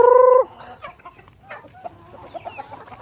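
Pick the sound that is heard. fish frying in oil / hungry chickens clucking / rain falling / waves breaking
hungry chickens clucking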